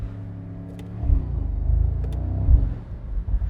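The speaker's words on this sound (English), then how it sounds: "This is one of my favorite sounding 4-liters actually." A 2024 Mercedes SL63 AMG with a 4-liter engine rumbles low and steady, swelling a little as it pulls, with a couple of faint clicks from paddle-shifted gear changes over the droning cabin sound.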